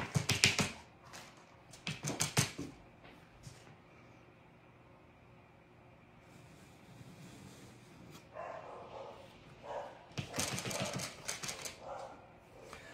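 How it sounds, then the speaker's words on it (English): Several bursts of sharp dog barking, near and loud, come in clusters at the start and again near the end, separated by quieter background noise. "if you hear that barking noise"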